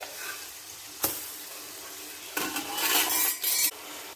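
Quiet sizzling of fish frying in a pan, with a sharp utensil clink early on and a louder burst of frying crackle toward the end.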